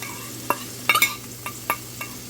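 Onion, garlic, and green and red peppers cook in a pan with a soft sizzle, while a utensil stirs through them in several scraping, clinking strokes; the sound is close and moderately quiet, with no talking.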